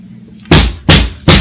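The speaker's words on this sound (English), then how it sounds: "Can you stop banging on the door?" Three heavy bangs on a door at steady intervals, each a loud close thud with a brief ringing decay, following a quieter stretch with a low murmur.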